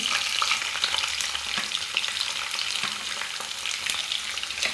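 Onions fry in a couple of spoons of oil with cinnamon and cloves for a fenugreek-leaf mutton fry, a dense, continuous close sizzle crackling throughout with occasional stirring clicks and no speech.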